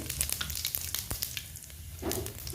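Whole garam masala and cumin seeds hit hot oil in a kadai, crackling and sizzling close by with scattered sharp pops and a steady frying hiss, no voices.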